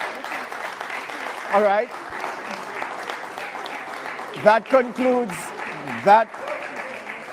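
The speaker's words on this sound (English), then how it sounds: "You can applaud." Applause from the audience at a televised economic debate runs at a moderate level beneath someone speaking, with a few short louder bursts of voice over the clapping.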